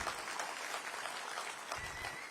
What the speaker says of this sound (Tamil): உங்க சார்பா கண்டிப்பா கரகோஷம் செஞ்சு அவங்களை பாராட்டியே ஆகணும்